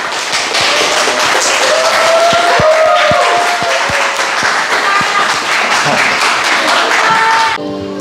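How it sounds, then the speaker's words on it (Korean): A church congregation claps in welcome at a Sunday service, steady loud applause with distinct nearby hand claps, fading out abruptly near the end. "우리 박수로 환영할까요?"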